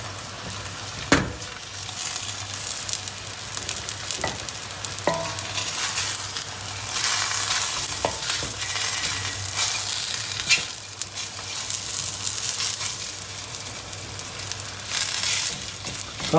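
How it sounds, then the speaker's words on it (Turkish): An egg fries in a hot pan for gözleme with kaşar cheese added, a continuous sizzle and crackle with a few sharp utensil clicks against the pan. "Yumurtamız pişmeye başladığı gibi kaşarını ilave ediyoruz."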